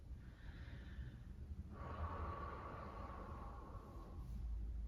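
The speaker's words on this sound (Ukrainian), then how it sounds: "Глибокий вдих видих." A slow, deep breath drawn in and then let out during a calm grounding meditation, soft and close, with a steady hush of background noise and no talking.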